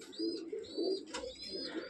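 Pigeons coo in a pigeon loft, giving soft, low, repeated rolling calls up close, with a few faint higher chirps above them.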